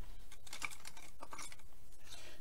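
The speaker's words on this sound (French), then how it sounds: "Donc on va finir au cutter." Utility knife slicing through thick material, a series of short scratchy cutting strokes with brief pauses between them, fairly close and quiet, no voices.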